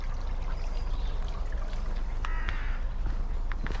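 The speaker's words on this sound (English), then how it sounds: "The water isn't too deep in this little stream." A small, shallow woodland stream flows steadily close by, giving a continuous rushing trickle with a few brief bird calls in the background.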